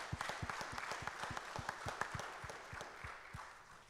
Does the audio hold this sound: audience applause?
yes